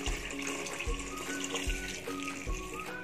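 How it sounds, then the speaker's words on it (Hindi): Water is poured into a veg biryani rice mixture with salt and oil before it goes into a rice cooker, a steady close splashing gush with small rhythmic surges, heard alone without speech. "और इसमें अब मैं पानी ऐड करूँगी।"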